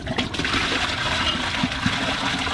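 A toilet flushing thick tissue paper, a steady close rush of swirling water and gurgling that carries on throughout without pause.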